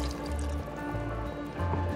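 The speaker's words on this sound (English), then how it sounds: "So now I'm going to add 1 cup of water in here," A cup of water pours into a pot of potatoes in a kitchen, a steady close trickling fill over a loud, continuous background hum.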